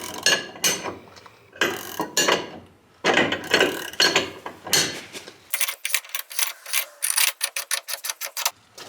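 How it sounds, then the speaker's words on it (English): Ratchet wrench with a 22 mm deep socket working on differential bushings of a Nissan 350Z, loud close bursts of ratcheting clicks, first in uneven spurts, then a fast steady run of sharp clicks at the end. "I have a 22 deep socket I might use here"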